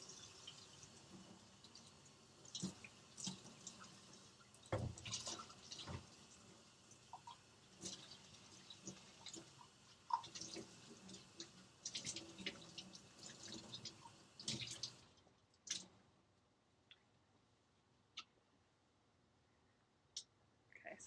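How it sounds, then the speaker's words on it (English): Running water from a kitchen tap rinsing out a liquid measuring cup while baking blueberry oatmeal muffins, a steady splashing wash with small clicks and knocks for about fifteen seconds, then quieter drips and occasional clinks. "Just wash out my liquid measuring cup real quick."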